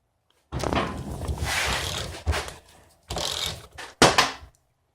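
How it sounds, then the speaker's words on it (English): A 7/8 wrench works on parts of a Sway-A-Way 2.5 IFP coilover shock during a home rebuild, giving close, loud ratcheting and metallic clicking in several bursts separated by short pauses. "We'll use our 7/8 wrench here"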